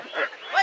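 A goose honks at a crowded duck and chicken market in Tongi, two quick nasal calls close by with no voices over them.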